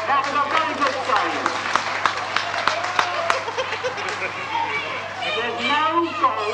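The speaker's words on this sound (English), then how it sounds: "Give it a clap. That was a very good save." An audience claps at a 1970s killer whale and dolphin show on Clacton Pier, scattered applause and crowd noise mixed with talking and shouting throughout.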